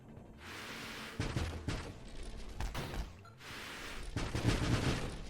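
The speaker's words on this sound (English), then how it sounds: "I think we'll want to go for lots of missiles." Rapid bursts of missile fire in the space shooter Nova Drift, built for a missile-heavy loadout, crackle and thump in dense clusters with short pauses, loud and close with no talk.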